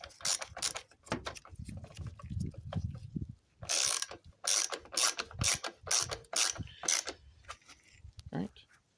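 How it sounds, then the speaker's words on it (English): Screw being driven back into a headlight housing on a 1996-2001 Daihatsu Midget II, with close, rapid ratcheting clicks in bursts and a short pause between them. "And then put the screw back in."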